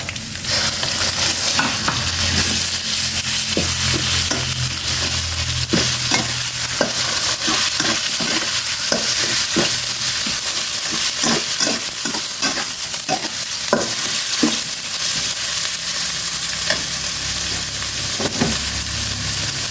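Minced pork stir-fries for a mushroom and holy basil dish, a loud continuous sizzle packed with rapid spatula scrapes and clacks against the pan, no speech.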